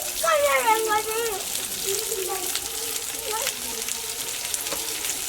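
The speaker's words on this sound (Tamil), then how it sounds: "அதில் கொஞ்சோண்டு எண்ணெய் ஊற்றி அதை லைட்டாக தக்காளி வெங்காயம் இதெல்லாம் சேர்த்து லைட்டாக வதக்கி" Tomatoes and onions sautéing in a little oil on a hot dosa pan, a steady sizzle running beneath a voice speaking throughout.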